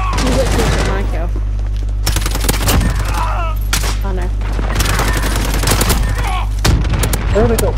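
Bursts of rapid light machine gun fire in a multiplayer shooter game, loud and dense, repeating in clusters amid explosions and a continuous low hum, with people talking over the action.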